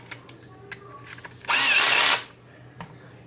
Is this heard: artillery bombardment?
no